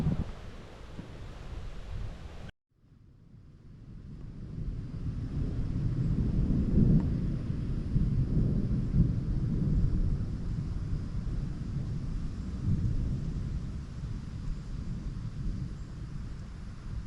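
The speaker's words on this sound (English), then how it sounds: "the rain is just starting to fall here in Seville" Steady rain and gusting wind in a Florida cemetery in Seville, a constant broad wash after a brief dropout, swelling slightly and holding loud and close with low rumbling underneath.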